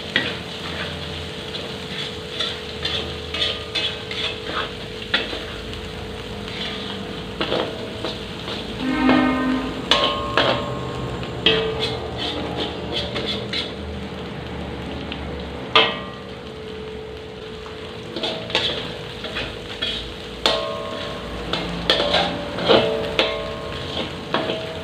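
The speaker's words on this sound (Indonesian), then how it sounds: "Kita aduk-aduk." Tofu in sweet soy sauce is stirred in a hot pan, giving a steady sizzle broken by repeated scraping and clacking of the utensil against the pan.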